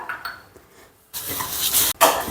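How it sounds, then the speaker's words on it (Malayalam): Fennel, mustard seeds, fenugreek, cumin and dried chilli are dry-roasted in a pan, heard as metallic clinks and scrapes followed by bursts of dry rattling and hissing as the spices are stirred, close by. "ഇനി നമുക്കിതിനെ നന്നായിട്ട് വറുത്തെടുക്കാം"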